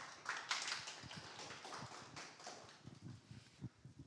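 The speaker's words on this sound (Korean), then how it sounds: "원장님을 큰 박수로 모시겠습니다." An audience at a KAIST startup centre event claps to welcome the director to the stage, a scattered, moderately quiet patter of hand claps with uneven, uneven-density bursts and no talking.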